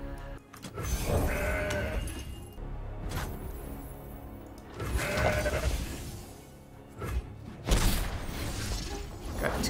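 Several mountain goat bleats ring out in bursts over a busy Legends of Runeterra game soundscape with clatter and effects, fairly loud and close.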